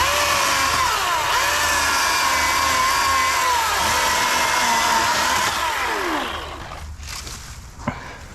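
A Milwaukee battery chainsaw cuts through a shrub with a steady, close whine that rises and falls as the chain bites the branches, then drops away near the end with a brief knock.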